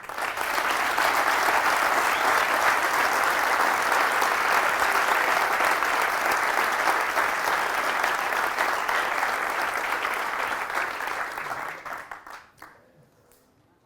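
Sustained audience applause at a symposium in Manchester, a dense steady wash of many hands clapping for about twelve seconds before fading out quickly near the end.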